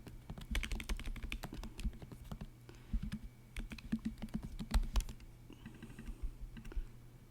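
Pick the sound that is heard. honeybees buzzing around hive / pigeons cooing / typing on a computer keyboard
typing on a computer keyboard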